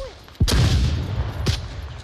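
In the virtual reality police shooter Onward, two flashbang grenades go off about a second apart, each a loud, sharp blast followed by a rumbling tail.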